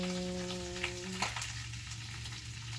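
Spicy pork adobo sizzling in a hot pan, a steady, close crackle of oil with occasional pops and splatters, continuing alone without any voice.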